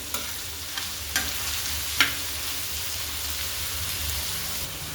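Finely chopped onion frying in oil, a steady hiss of sizzling with a few sharp clicks and taps of a spoon against the pan.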